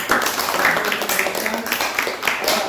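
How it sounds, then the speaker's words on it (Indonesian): Steady clapping from a group in a classroom after a group presentation, a continuous patter of many hands at moderate loudness without pause. "beri tepuk tangan dulu untuk kelompok 1"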